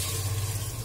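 Tomatoes go into a pan of ginger garlic paste for vegetable pulao, and a loud, steady sizzle of frying fills the short moment up close.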